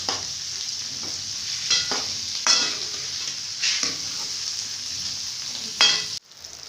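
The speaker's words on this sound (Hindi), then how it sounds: "5 मिनट ये हल्के फ्राई हो जाएंगे।" Onions frying in a pan for a Punjabi-style aloo gobhi, a steady close sizzle with a few louder bursts of stirring scattered throughout, no voices.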